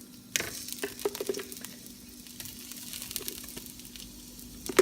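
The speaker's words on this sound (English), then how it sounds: "And then let's put our garlic." Garlic frying in a pan for red snapper with bok choy, a steady soft sizzle with occasional clicks and stirring scrapes, close and moderately quiet, no voices.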